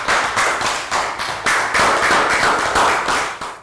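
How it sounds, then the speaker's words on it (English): A class of young pupils claps in a round of applause, a dense, steady patter of many hands close by that runs the full length without pause. "High five and round of applause for Down"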